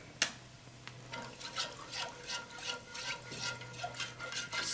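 Spoon scraping the bottom of a pot of simmering chicken tortilla soup, a rhythmic series of close, gritty strokes with liquid sloshing, no one speaking.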